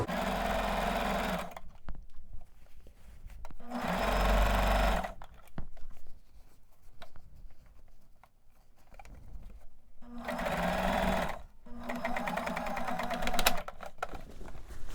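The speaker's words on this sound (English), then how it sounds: "I'm going to do a little back stitch just to reinforce that area" Close sewing machine stitching a pants seam, running in two loud bursts of rapid mechanical whirring with quieter handling pauses between, including a short back stitch to reinforce the seam.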